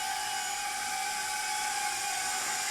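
Tiny NIHUI U207 nano quadcopter drone with its motors at full throttle, giving a steady, loud high-pitched whine that holds constant and close throughout, with no talk.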